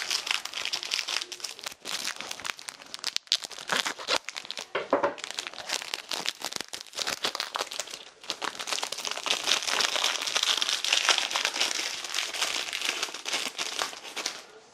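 Crinkling wrapper being opened during an ASMR unboxing of a Japanese NihonBox subscription package, a close, continuous crackle of plastic with sharp crunches and bursts throughout.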